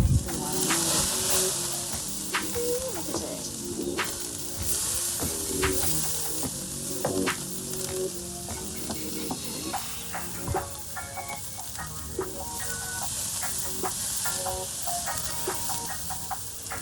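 Bacon-wrapped asparagus sizzles on a grill, a steady hissing fry broken by crackles and pops, with handling clatter and faint background sounds throughout.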